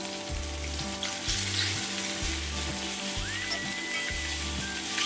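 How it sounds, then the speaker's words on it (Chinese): Chicken wings pan-fry in a little oil for a spicy garlic dish, with a bright, continuous close sizzle and a regular pulsing rhythm of low knocks under it. "我哋就咁攞少少油煎一煎"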